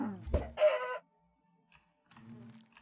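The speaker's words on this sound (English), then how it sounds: "Alright, chickens, do you mind?" Chickens cluck loudly nearby in the Minecraft modpack FTB Skies Expert, a short burst of clucks followed by softer clucking and faint game sounds.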